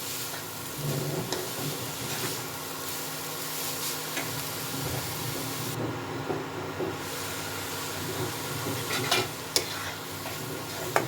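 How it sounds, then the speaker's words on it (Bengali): Grated carrots fry in ghee for gajar halwa, giving a loud, close, continuous sizzle layered with repeated spatula scraping and stirring, with no one speaking. "গাজরটা ঘিয়ের সাথে ভালো মতো ভেজে নেব।"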